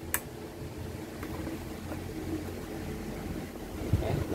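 An electric fan runs at speed 2 after its capacitor was replaced, making a steady, low whirring hum throughout with a brief sharp click near the start.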